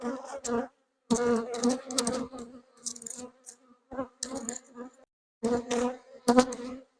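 Honeybees fly busily around a hive after a queen introduction, a close buzzing drone that comes in uneven bursts with short quiet gaps between them.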